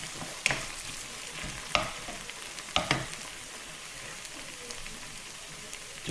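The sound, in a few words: tomatoes sizzling in a pan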